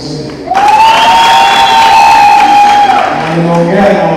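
Applause and cheering from an audience at the Kajiado Talent Awards Gala in Kitengela surge in loudly after a brief lull, with a sustained shrill whistle-like tone riding over the dense crowd noise.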